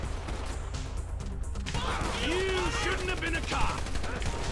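Gunshots and rapid automatic fire in Grand Theft Auto V, a dense, loud crackle running through the clip, with whistling, ricochet-like tones and game voices layered over it.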